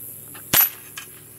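A single sharp gunshot at a Challenge Targets bullseye steel target, loud and abrupt, followed by a faint short tap a moment later, over quiet background hiss with no talking.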